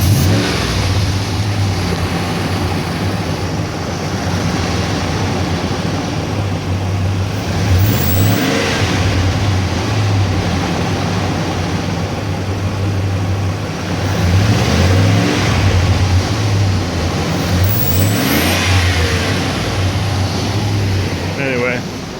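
A 2003 Ram Hemi pickup engine with a throttle body spacer revs up and down in steady waves, loud and close, with a low idle rumble underneath throughout.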